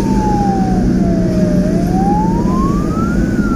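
Ambulance siren during a police escort through busy Bandung traffic, a single slow wailing tone that falls then rises, loud over a heavy rumble of engine and road noise.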